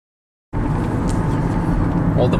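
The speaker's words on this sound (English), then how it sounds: "the Volvo is driving absolutely beautifully" A Volvo XC70 out on a test drive, its steady cabin rumble of engine and road noise starting abruptly after a half-second of silence and holding evenly, fairly loud, to the end.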